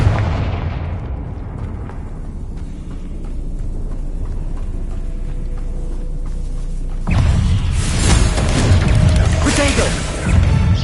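Confringo blasting spell explosions in the video game Hogwarts Legacy, heavy booming bursts over a rumbling low roar that swells louder in the final seconds, with a player's voice calling out over the action.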